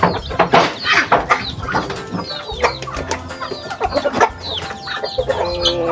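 Farm chickens cluck and squawk close by in a busy, irregular chorus of repeated calls and sharp bursts.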